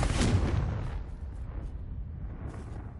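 Bombarda explosion spell going off in Hogwarts Legacy, a loud booming blast at the start that rumbles and decays into a low, fading roar with scattered debris crackle.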